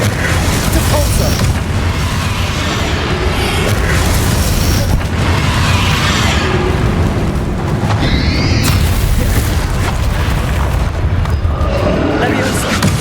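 Depulso force spell cast in Hogwarts Legacy during Bakar's Trial, loud booming blasts and bursts layered over dense continuous combat noise, with a voice calling out over the din.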